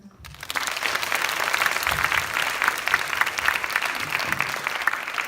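Audience applause fills a church chapel during a Friday chapel service, a dense, steady clatter of many clapping hands that starts almost at once and holds at an even level throughout.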